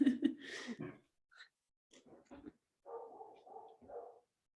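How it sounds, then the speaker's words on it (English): A dog barks and yips a few times in short, irregular bursts, close by, with brief quiet gaps between them. "Sophia, is that your dog or?"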